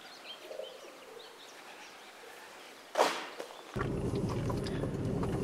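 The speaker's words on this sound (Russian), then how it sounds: "Эту башню облюбовали голуби" Pigeons roosting inside an old tower coo softly in the distance, followed by a sharp rustle or flap and then a steady louder noise bed, with no talking.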